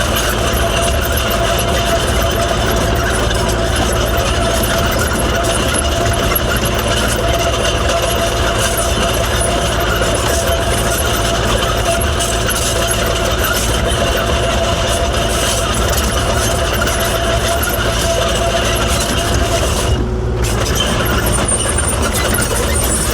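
Kubota KX040-4 excavator engine idling steadily while its hydraulics warm up, a loud, constant drone with a high whine held throughout and a brief dropout near the end.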